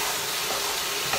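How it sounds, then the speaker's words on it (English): Satay seitan stir fry sizzles in a hot pan over lowered heat, a steady, loud hiss and crackle filling the whole short moment with no talking. "Even though I've got the heat turned down, you get a nice sizzle from it."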